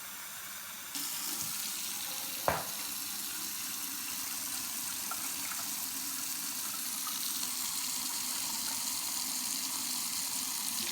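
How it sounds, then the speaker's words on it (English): Water runs steadily from a tap into a container for wild yeast bread dough, a continuous close hiss and gush after a brief knock near the start, with no talking. "we're going to be adding 500 grams of water"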